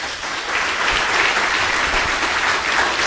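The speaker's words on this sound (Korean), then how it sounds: "오늘 나온 우리 선수 32명에게 그 행운의 박수를 좀 크게 보내주시기 바랍니다" A seated audience at a women's volleyball rookie draft ceremony applauds the 32 drafted players, a steady, dense wash of clapping from many hands that holds evenly for several seconds with no talk.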